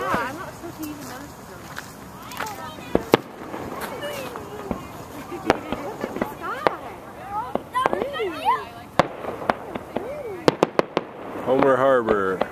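Fireworks burst over Homer Harbor in Alaska, sharp bangs and crackles scattered irregularly at a distance, some whistling rockets rising, while nearby people chatter and a crackling flurry closes the sequence.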